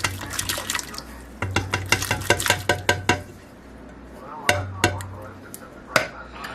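A spoon stirs canned carrots and green peas in a pot for chicken and dumplings. Wet, sloshing strokes come with sharp clinks against the pot, in two rounds with a short pause between, and nobody talks.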